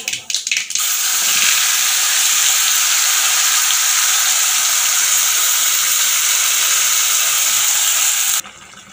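Tomato paste boils hard in a pan, giving a loud, steady sizzling hiss that runs for several seconds and then cuts off abruptly.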